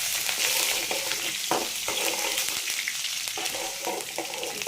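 Shallots and curry leaves sautéing in a pan, a loud continuous sizzle with repeated spatula stirs and scrapes close to the microphone, no voices.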